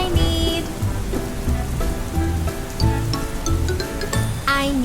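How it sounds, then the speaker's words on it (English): Steady rain falls during the rainy season, a continuous dense patter on surfaces that holds at a fairly loud level throughout, with faint musical tones mixed in. "Today it's raining."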